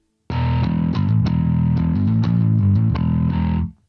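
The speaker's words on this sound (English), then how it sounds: "gives you just the lowermost lane and a regular ordinary bass tone" Neural DSP Quad Cortex bass preset reduced to its lowest lane, giving a plain, ordinary clean bass tone: a steady run of picked notes, loud and close, alone for about three seconds before fading.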